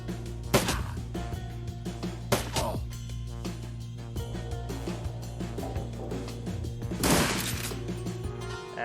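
Gunfire in the Shadowrun Dragonfall video game: a few sharp, loud bursts spaced over several seconds, with a longer crackling volley near the end, over a steady game background hum.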